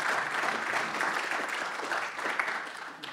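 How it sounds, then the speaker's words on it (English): Dense applause from the audience at a Bitcoin expo welcome session, a steady wash of clapping across the whole short stretch, moderately loud and unbroken. "Let's give a round of applause for everyone in the audience"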